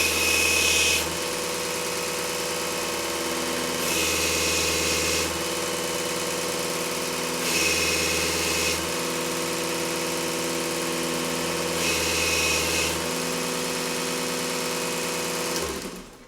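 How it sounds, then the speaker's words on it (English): A belt sander grinds a small part, its steady motor hum running throughout with four louder bursts of abrasive grinding as the piece is pressed against the belt, close and loud, with no talking. "take a good 2 millimeters off it, and just take it over the old belt sander"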